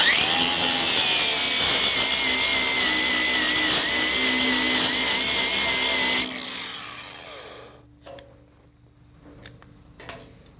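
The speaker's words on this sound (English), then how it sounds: "I'm going to grind off the paint so my ground has good contact" Angle grinder stripping paint from a steel 3/8 chain grab hook, a loud steady high whine for about six seconds that then cuts off and winds down, leaving faint clanks and quiet.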